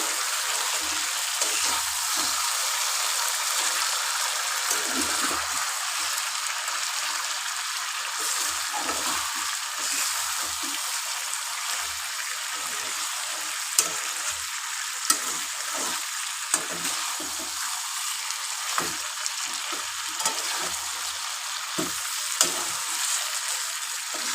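Chicken being stir-fried and browned in a pan for a Golabari-style kosha, with steady loud sizzling and frying throughout and occasional stirring clatter close by.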